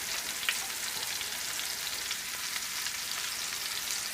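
Whole mushrooms sauté in oil and butter over medium-high heat, a steady soft sizzle and crackle throughout with a few brief pops, no voices.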